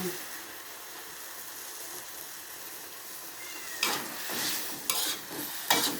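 Water spinach stir-fried with soybean paste and a little sugar in a wok hisses and sizzles steadily, with louder bursts of scraping and tossing near the end.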